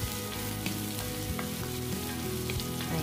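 Onions sauté in a pan for shrimp and mushroom zucchini, giving a steady close sizzle with light scraping and stirring clicks throughout and no talk.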